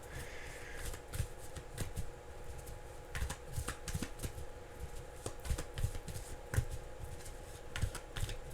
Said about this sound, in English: I have to shuffle again.